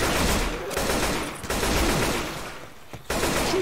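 Gunfire at zombies in Left 4 Dead 2, rattling in dense bursts that fill most of the moment, broken by two short pauses, loud and close.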